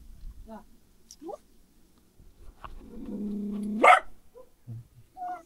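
A stray dog barks and growls a few times amid sparse sounds, with a person speaking Tagalog at points.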